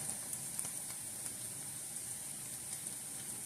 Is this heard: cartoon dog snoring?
no